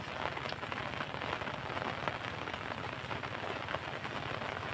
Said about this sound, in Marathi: सकाळपासून चांगला पाऊस पडतोय मित्रांनो